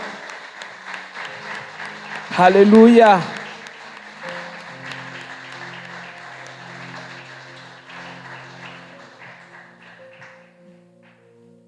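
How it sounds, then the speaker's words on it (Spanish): A church congregation bursts into applause for the Lord for about a second, loud and dense, while a voice speaks over it, then talk continues with music underneath. "Dale una ofrenda de aplausos al Señor."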